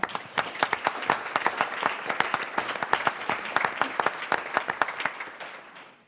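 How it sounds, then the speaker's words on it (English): A forum audience applauds a speaker, with dense, sustained clapping from a room full of people that holds steady and then fades toward the end. "Please give a round of applause to Dr. Gilman"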